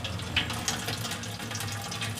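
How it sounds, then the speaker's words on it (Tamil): Water from cooked agathi greens pours off through the gap under a covering plate, a steady close splashing rush that runs without pause, with no voices. "சாப்பாட்டில் கஞ்சி எப்படி வடிப்பீங்க அது மாதிரி எல்லா தண்ணியும் வடிச்சுக்கலாம்."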